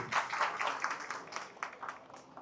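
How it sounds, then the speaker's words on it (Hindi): Scattered applause from an audience at a corporate training session, a faint, uneven patter of claps that stays fairly quiet throughout. "जोरदार तालियां हो जाए इनके लिए।"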